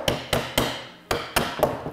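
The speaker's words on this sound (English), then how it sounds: "I was going to say, I do have a hammer." A hammer striking a Bergstrom skeg mounting on a snowmobile sled, six sharp metallic taps in an uneven rhythm, close and loud with no talk.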